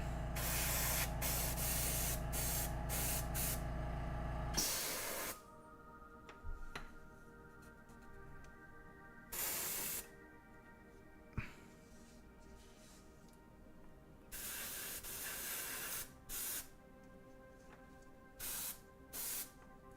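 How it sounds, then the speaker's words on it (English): A Badger airbrush sprays in short, sharp hissing bursts separated by pauses, with faint ticking in the quieter gaps. "The Badger airbrush."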